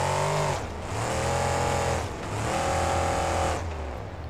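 A monster truck engine in the BeamNG driving game, tuned for low acceleration, drones and revs in steady surges with brief dips between them, loud and close, with no talk.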